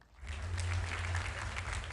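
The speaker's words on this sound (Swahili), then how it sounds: "Makofi yangu hapo." An audience breaks into applause that swells after a short pause into dense, steady clapping at a comedy show, filling the room at close-to-medium range.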